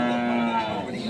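A single cow moos close by at the weekly Monday cattle market at K G Temple, one sustained call with faint crowd noise behind it.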